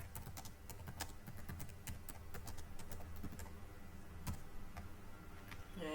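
Typing on a computer keyboard in a quiet room: a faint, quick run of light key clicks and taps with uneven rhythm and occasional louder strokes, close by with no talking.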